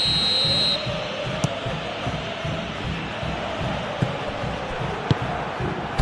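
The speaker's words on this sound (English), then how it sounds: "Whistle's gone, that's a foul." A referee's whistle sounds in an eFootball PES 2021 match, a brief high shrill blast at the start over a steady roar of stadium crowd noise, with faint thuds scattered through the din.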